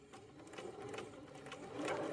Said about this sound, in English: removing my pin as I get close, sewing, and then I'll back stitch when I get to the end